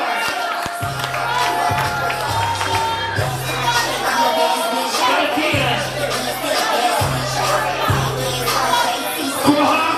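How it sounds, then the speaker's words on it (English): A crowd at a ball cheers and applauds continuously, a dense wash of clapping and shouts with music or a voice pulsing in the low end beneath. "Y'all give these ladies a round of applause"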